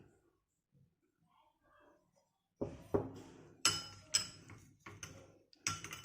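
Crushed homemade remedy ingredients being mixed with coconut oil in a bowl, heard after a quiet start as close, uneven scraping clinks and knocks of a utensil against the bowl, several sharp strikes among them.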